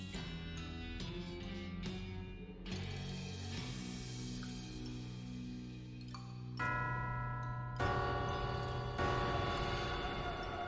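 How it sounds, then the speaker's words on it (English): Eerie, ringing bell tones from the video game West of Loathing, layered with sustained chime-like notes over a low drone, struck several times at uneven intervals and fading away under game music. "The eerie sound of the bell fades away"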